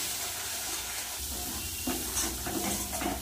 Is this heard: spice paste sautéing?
yes